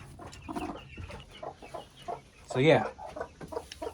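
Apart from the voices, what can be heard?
hen clucking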